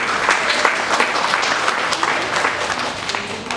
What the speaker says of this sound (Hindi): वो जोरदार ताली बजाकर इनका भी स्वागत है।